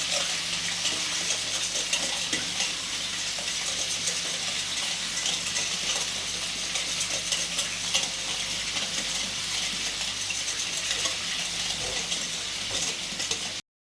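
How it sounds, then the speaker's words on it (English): Homemade barbecue sauce with molasses being stirred, a continuous, even scraping and sizzling hiss that holds steady for about fourteen seconds before cutting off abruptly, with no talking. "just give it a good stir"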